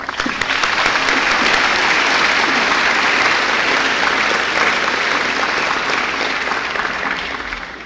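Audience applause at a university fall convocation welcoming new faculty, a full, even wash of clapping from a large crowd that stays loud and steady before slowly tapering off.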